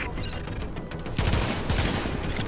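Sustained video-game gunfire in The Division, on Xbox Series X, with rapid overlapping shots forming a dense fusillade that grows louder and heavier halfway through, with no talk over it.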